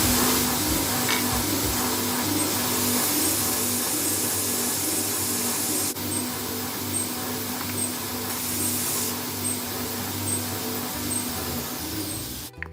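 Steady, loud drone of a wood sanding machine running continuously as timber sections for a treasure box are fed through, a constant motor hum with broadband grit noise and no pauses.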